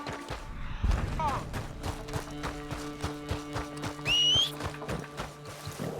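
A horse in the video game Red Dead Redemption 2 gives a high neigh amid rhythmic clip-clopping hooves, with thuds and mechanical clatter close by and a brief voice underneath.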